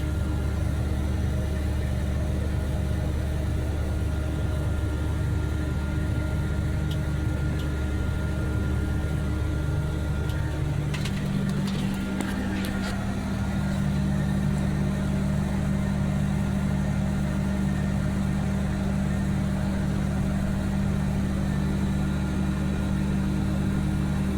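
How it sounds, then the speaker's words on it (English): A tractor engine runs steadily while planting seed in a field, a constant low mechanical drone with a faint rattle partway through, heard alone without voices. "Still steering the tractor."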